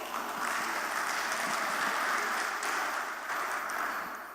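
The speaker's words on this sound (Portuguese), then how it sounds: "Uma salva de palmas, por favor." Conference audience applauding, a sustained wash of hand clapping at moderate distance that holds steady for several seconds before slightly thinning.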